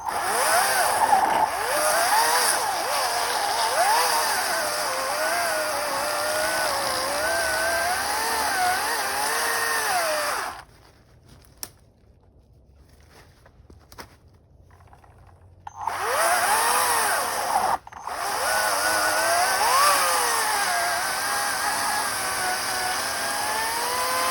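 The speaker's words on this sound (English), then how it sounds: "Not bad for a electric chainsaw." An electric chainsaw buzzes loudly, its pitch rising and falling as it bites through wood, stopping briefly in the middle before starting up again.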